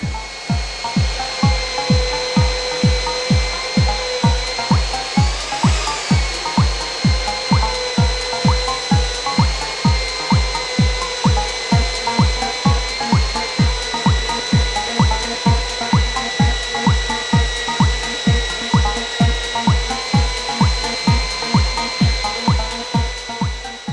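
Diamond core drill bit cutting with water feed, a loud continuous grinding drone with steady tonal whine and rapid regular rhythmic scraping pulses, running alone throughout.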